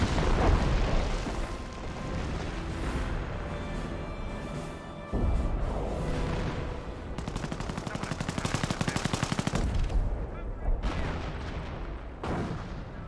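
Company of Heroes battle audio with dense, continuous gunfire and machine-gun bursts layered over booming artillery and explosions, loud throughout, with a heavy rattling volley in the middle stretch and a voice faintly underneath.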